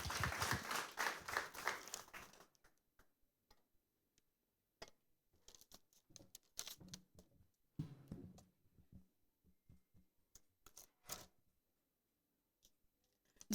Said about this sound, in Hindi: आइए ताली बजा के इनको स्वागत करें।